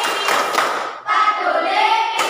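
Elementary school class claps a rhythmic chant together in a classroom, short sharp clap bursts mixed with children chanting aloud, close and lively.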